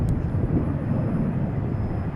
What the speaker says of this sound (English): Nice Gulfstream.